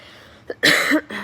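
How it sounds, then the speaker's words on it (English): A single harsh, strained cough up close, preceded by a short catch of breath and trailing off into a rough throat sound. "It's hard to cough. It hurts."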